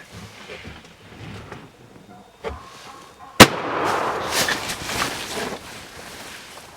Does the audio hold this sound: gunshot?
yes